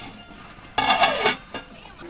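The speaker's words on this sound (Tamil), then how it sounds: "இதை வந்து மூடி வச்சுக்கலாம்." A single clattering metal clank as a lid is set onto a pot of fish curry with dried fish, followed by a brief softer knock, then quiet.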